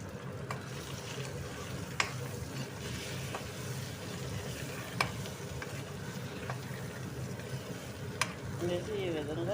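Eggs frying in plenty of oil with chilli powder in a pan, a continuous steady sizzle with a few light spatula taps against the pan, close and even throughout.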